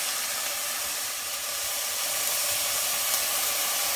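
Beer hitting a hot pan of mussels for Belgian moules marinière, a steady loud hiss and sizzle holding evenly throughout with no talking.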